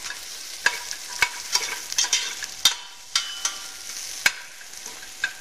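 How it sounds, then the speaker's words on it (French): Onions brown in a pan for a turkey sauté, giving a bright, fairly loud crackling sizzle punctuated by irregular sharp utensil taps and scrapes, close by and with no talking. "Pour roussir un peu ces oignons."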